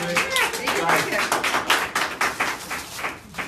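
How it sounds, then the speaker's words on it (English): Many hands clap in a dense, uneven patter of audience applause, with voices mixed in among the claps. "Can we give her another round of applause real quick?"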